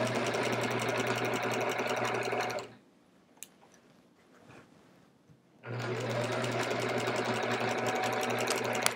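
A sewing machine quilting fabric with a walking foot hums loudly and steadily with a fast mechanical chatter, stops for about three seconds of near quiet with small handling noises, then starts again at full speed.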